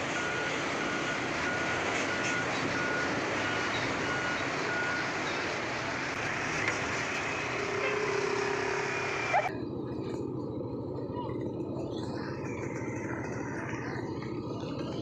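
A heavy-equipment truck reverses on a damaged road in Central Kalimantan, its steady rumbling engine and repeated reversing beeps continuous and close, the broadband noise dropping off abruptly near the end.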